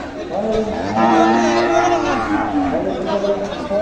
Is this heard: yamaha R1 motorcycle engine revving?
no